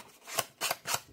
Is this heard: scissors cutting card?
yes